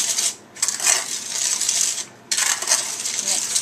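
Cinnamon and Truvia sugar mix being stirred in a bowl, a bright, steady scraping and clinking of utensil against the bowl in two long bursts with a short pause between, close and loud.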